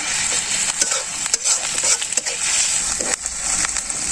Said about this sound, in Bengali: এখন ভালো করে ভাজে নিচ্ছি